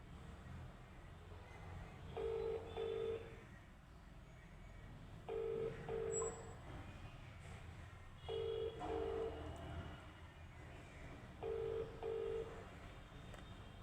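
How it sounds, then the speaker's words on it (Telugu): Touch-tone keypad dialing of a phone number: short paired beeps repeating in four evenly spaced bursts over a faint background hum, with no one talking. "మరి తనకి ఒకసారి ఫోన్ చేద్దాం"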